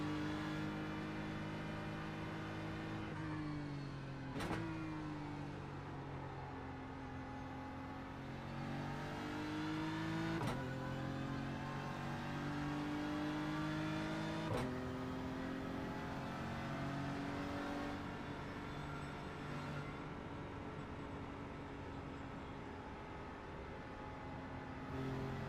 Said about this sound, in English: Car giving out because we have no fuel.